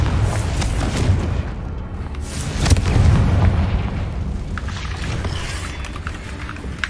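Confringo fire spell blasts in Hogwarts Legacy, low rumbling booms and bursts rolling under continuous game noise, fairly loud and sustained, with no talking.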